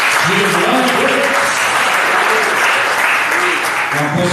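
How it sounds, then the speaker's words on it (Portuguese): A church congregation at a family worship service applauds loudly and continuously throughout, a dense wash of clapping with voices rising over it. "Aplauda bem forte o nosso Deus aí"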